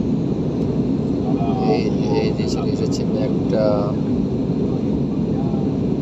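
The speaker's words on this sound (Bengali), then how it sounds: "বিমান লড়তেছে" Steady low cabin roar of an airliner flying through cloud and icy precipitation, constant and broadband, with someone speaking over it.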